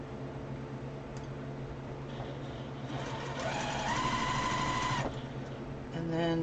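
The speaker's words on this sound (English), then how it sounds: "And then we will sew that to there." Domestic sewing machine stitching quilt pieces together, a steady whirring motor drone that speeds up and grows louder midway, then stops and restarts briefly at the end, close and continuous.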